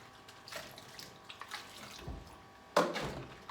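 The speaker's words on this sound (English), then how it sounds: "Then my baby feeding sets, I rinse them" Running tap water rinses baby feeding bottles and their parts in a sink, a low steady splash broken by brief clatters and a louder gush near the end; no voices.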